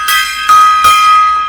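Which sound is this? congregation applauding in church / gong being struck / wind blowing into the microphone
gong being struck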